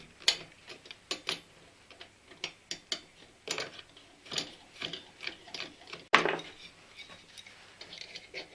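A ratchet loosening the cylinder base bolts on a Stihl MS880 chainsaw, heard as a quiet series of rapid metallic clicks in uneven bursts, with one sharper clack partway through.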